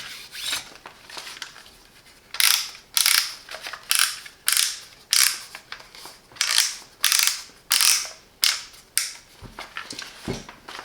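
Depth-adjustment plate of a Parkside PEH 30 D4 electric planer, aluminium, being turned, giving a series of sharp mechanical ratcheting clicks in a regular rhythm, close and fairly loud, with no talking.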